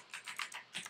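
Quick keystrokes on a computer keyboard while a URL is typed, about five close, soft clicks in under a second with no voice.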